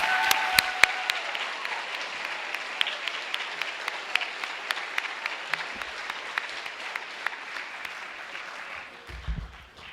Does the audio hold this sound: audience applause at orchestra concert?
yes